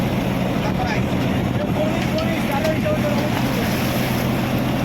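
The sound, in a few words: fishing boat moving out on water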